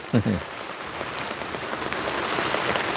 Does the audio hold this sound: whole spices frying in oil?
no